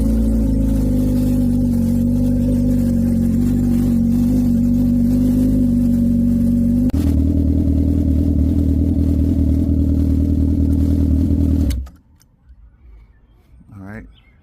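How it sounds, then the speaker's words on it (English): A Honda CBR1000RR sport motorcycle, in neutral during a coolant flush, idles loudly and steadily nearby, its tone shifting slightly partway through before the engine cuts off, leaving near quiet with a faint sound at the end. "Start the bike."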